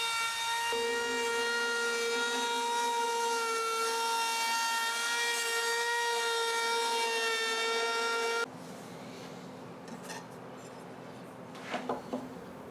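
Router or power tool chamfering the bottom faces of an oak apron strut for a dining table, a loud steady whine for about eight seconds, then it cuts off, leaving quieter rubbing and a few knocks.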